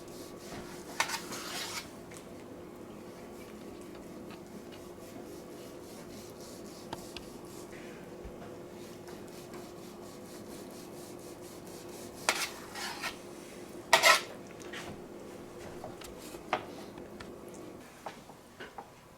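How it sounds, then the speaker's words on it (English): Medium rare roast beef is sliced on a metal pan, producing soft, intermittent knife scrapes and rasps against the pan, with a few sharper clinks and scrapes standing out amid a quiet kitchen hum. "we're slicing it on this pan so I can try to catch some of the juices"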